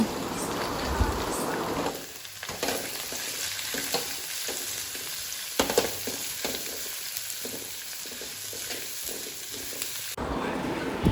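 Garlic frying in a pan gives a steady, close sizzle with crackling and the occasional scrape of stirring, running throughout without speech.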